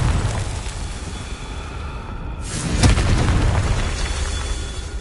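A Confringo fire spell explodes in the Hogwarts Legacy video game, a dull boom bursting out midway over a steady roar of game ambience, close and fairly loud.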